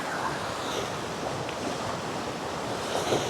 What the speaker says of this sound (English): I hope y'all can hear me because it's super windy right now